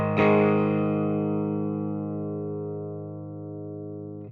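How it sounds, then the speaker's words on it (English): A single sustained chord on electric guitar through the distortion channel of a Fender Champion II 50 amp, struck once and left ringing with a thick, saturated tone that slowly decays over four seconds, close and alone. "And then you go to a distortion channel."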